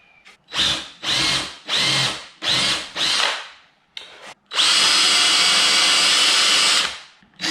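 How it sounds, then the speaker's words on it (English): An impact driver sinks screws into 1/4-inch plywood for a homemade track saw, with five short rhythmic bursts followed by a pause and one longer sustained run, loud and close. "turns out that my impact driver is a touch too aggressive, and ended up forcing the screws through the bottom anyway"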